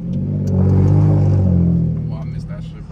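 Ford F-150 pickup with a cat-back exhaust and no mufflers revving, a loud deep rumble that swells and holds for a couple of seconds, then eases off, with voices talking over it.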